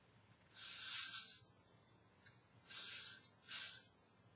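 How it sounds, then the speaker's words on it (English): L'Oreal Elnet hairspray is sprayed onto hair in three close hissing bursts, a long spray followed by two shorter ones, with quiet pauses between them. "then I'll take my L'Oreal Elnet and spray them back"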